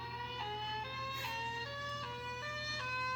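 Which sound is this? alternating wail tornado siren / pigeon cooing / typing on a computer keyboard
alternating wail tornado siren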